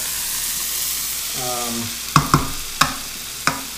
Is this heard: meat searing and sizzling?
yes